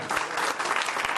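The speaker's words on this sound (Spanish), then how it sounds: "Den un aplauso al Señor." A church congregation applauds during a sermon, with steady, dense clapping that holds evenly for about a second and stays fairly close.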